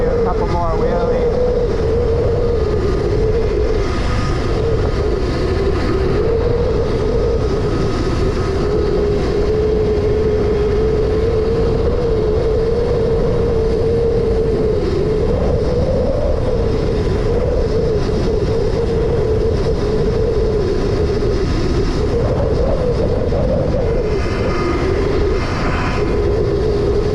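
A 48V electric Razor MX dirt bike is ridden while doing wheelies, its steady motor whine droning loudly and continuously with slight rises and dips in pitch over heavy wind and road rumble.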